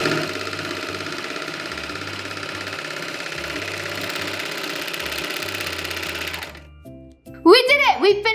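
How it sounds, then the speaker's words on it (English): Serger stitching a rolled hem on a bias-cut gown, a loud steady whirring buzz running for several seconds before stopping, after which a person starts talking. "I'm gonna do a rolled hem with the serger"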